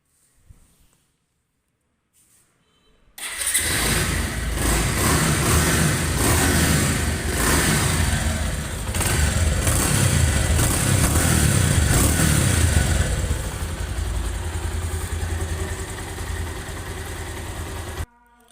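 A Bajaj Pulsar single-disc motorcycle starts after a few quiet seconds of handling noises, then idles and is revved repeatedly, its engine note swelling and dropping loudly up close until it cuts off.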